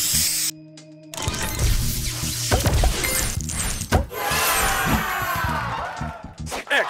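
Spray booster effect in the Match Masters match-three video game, a loud, busy burst of hissing spray and shattering crunches that follows a short electronic jingle and fills the rest of the clip.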